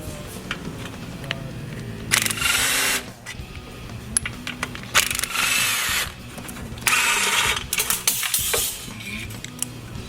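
Power tools work on broken exhaust manifold bolts on a replacement engine, buzzing in several loud bursts of a few seconds each, separated by quieter gaps of clanking and shop noise.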